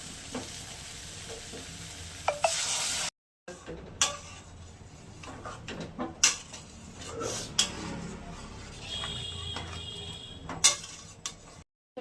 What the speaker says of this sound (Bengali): পোস্ত দেওয়া আছে তো একটু কষিয়ে নেবো